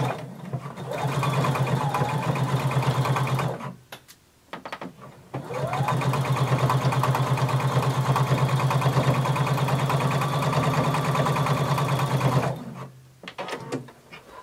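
A sewing machine stitches a dart in fabric in two long steady whirring runs, loud and close, separated by a short pause, then halting at the end.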